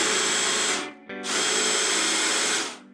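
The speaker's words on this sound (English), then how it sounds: "So I like to drill the small hole first." A power drill bores a small hole in an interior door, whirring loud and steady in two bursts split by a short pause near the middle.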